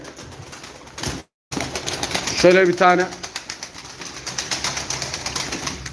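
Tumbler pigeons at a live bird auction coo and flap their wings close by, a burst of wingbeats standing out midway while someone talks over the birds.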